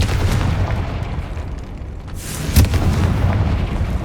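A Confringo blasting spell in Hogwarts Legacy sets off a deep rumbling explosion, with a sharp burst near the end cutting through the continuous low roar, fairly loud and without speech.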